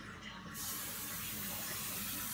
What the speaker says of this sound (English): you're going to take the cooking spray and you're going to spray the first pan